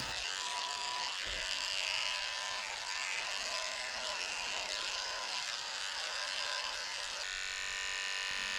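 Electric dog clippers fitted with a 5 blade trim a Yorkie's coat, a faint, steady buzzing drone running without pause, its pitch shifting slightly near the end.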